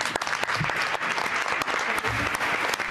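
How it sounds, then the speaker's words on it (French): Audience applause in the stands at a community event, a continuous sustained clapping with crisp individual claps popping out, fairly loud and with no voices audible over it. "On les applaudit, on leur dit bienvenue ici, Madame la Présidente."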